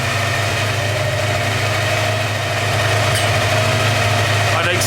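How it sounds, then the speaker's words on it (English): A Porsche 928 engine idles with a steady low rumble and a faint continuous whine above it, close and even throughout. "So the whining noise is definitely still there."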